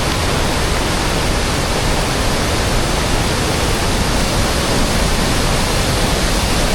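A loud, unbroken roar of rushing, high-pressure floodwater near Gupt Bhimashankar on a forest trek from Bhorgiri fills the whole stretch, dense and steady with no pauses.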